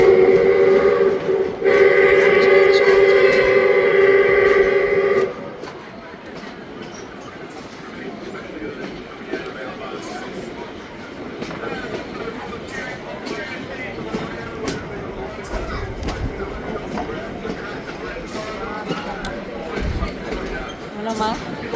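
A tourist train runs from Victor Harbor to Goolwa in South Australia, with a loud sustained whistle blast at the start, then steady rumbling and clatter of the rolling carriages, with voices talking faintly over the ride.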